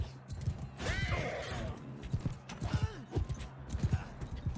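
A horse's hooves clip-clop along in the Mount & Blade II: Bannerlord video game, the rhythmic footfalls close and clear amid battle noise, with a whinny and game effects mixed in.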